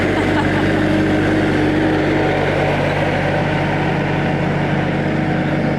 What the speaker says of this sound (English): just bringing the tractor around to do some heavy lifting this morning